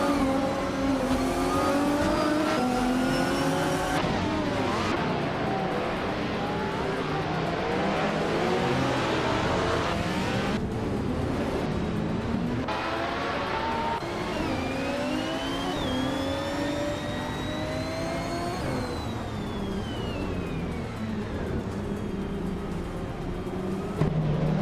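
A field of race cars led by a 2000 Ferrari F333SP on pole at the Riccardo Paletti circuit, engines revving and shifting continuously as several cars accelerate and pass, loud and overlapping with no talk.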